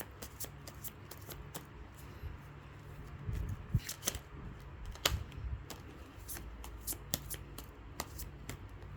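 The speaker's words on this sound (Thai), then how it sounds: "ขอเป็นตัวแทนสับไพ่ตัดไพ่ให้คนเกิดวันอาทิตย์ค่ะ" Tarot cards are shuffled and cut by hand, close and fairly quiet, with a steady run of soft riffling flicks and slaps, a few louder snaps in the middle, and no talking.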